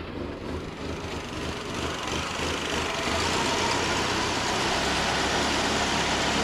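A car engine idling with a steady, even mid-pitched hum and faint ticking texture, constant and close with no talking.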